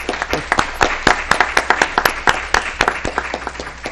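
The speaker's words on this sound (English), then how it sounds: "I think we should offer all of these candidates our round of applause and our thanks for sticking their neck out." An audience at a candidates' forum applauds, a room of hands clapping in brisk, fairly even strokes that stay loud and close throughout, with no talking over it.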